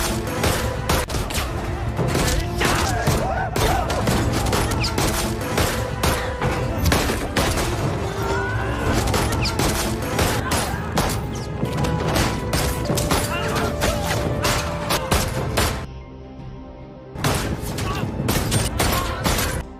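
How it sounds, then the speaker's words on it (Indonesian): Dense, rapid volleys of movie gunfire from a gangster shootout, with repeated gunshots crashing close and loud almost without pause, over a busy soundtrack that drops out briefly near the end. "serta memastikan Dosu menerima tembakan berulang kali hingga tubuhnya tidak lagi dapat dikenali"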